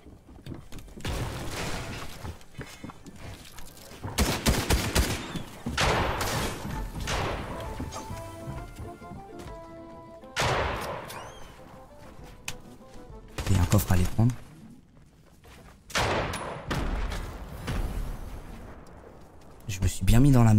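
Bursts of weapon gunfire in the Fortnite video game crack out in rapid, repeated volleys with heavy thuds, loud and up close, while a person talks over the shooting.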